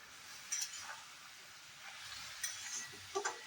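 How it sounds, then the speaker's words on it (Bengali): Malabar spinach, taro and pumpkin stirred in a pan, a soft steady sizzle under a few scraping spoon strokes and light clinks of utensil against metal, quiet and close. "এবারে আস্তে আস্তে আমি এটা ভালো করে মিলিয়ে দেবো"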